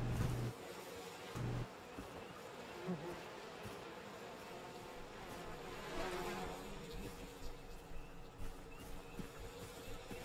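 Bees buzzing in the video game We Happy Few, a faint, continuous insect drone with a few soft thumps and brief bursts of background sound.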